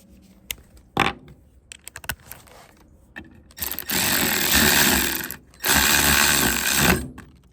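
A hand ratchet tightens a 13 mm nut on the parking brake of a RAM Promaster. Two sustained bursts of rapid close clicking follow scattered light metallic taps.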